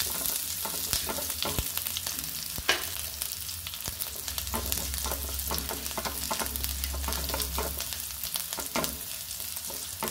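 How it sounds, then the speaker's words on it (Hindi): Spices crackle and pop in hot oil as tempering for beetroot chutney, with a steady sizzle, sharp snaps scattered throughout, close up and fairly loud. "जैसे ही ये तड़का थोड़ा तड़क जाएगा"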